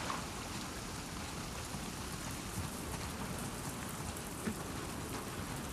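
Rain falls steadily in the video game The Last of Us Part II, a dense continuous wash of drops at moderate distance, soft and even, with no voices.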